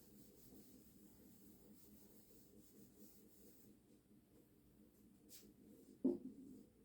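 A teacher rubs writing off a board in a math class, giving soft, repeated scrubbing strokes at low volume that end in a short, sharper knock near the end, with no voice over them.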